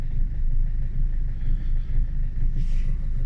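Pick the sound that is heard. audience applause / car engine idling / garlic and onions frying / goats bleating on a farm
car engine idling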